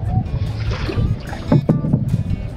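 A small wooden dinghy is rowed on the Turag River near Kashimpur, with uneven oar splashes and water sloshing close by under gusty wind noise.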